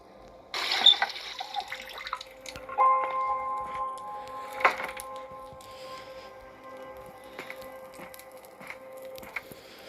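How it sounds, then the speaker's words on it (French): Water runs from a tap in the horror escape game Metel, a steady moderate stream that starts abruptly, mixed with faint clicks and tonal game sounds and no speech. "Et ici, on peut faire couler de l'eau."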